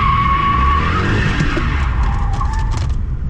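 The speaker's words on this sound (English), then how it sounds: "I already know this car will do one heck of a burnout" A Jaguar XJR does a burnout with a loud, sustained tire screech over a roaring engine, the squeal wavering in pitch and fading slightly toward the end.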